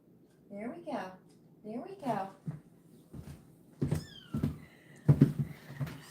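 A pet cat named Chewy gives two drawn-out meows close by, followed by a few sharp knocks and soft bumps.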